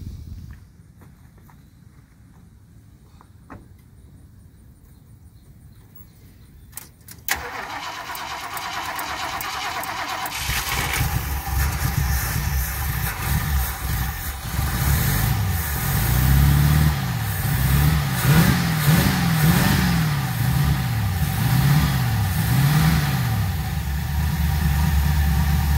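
A rough-running RC car engine, a nitro-style model, fires up and revs unevenly, surging and dipping in loud wavering pulses after quiet handling and footsteps at the start.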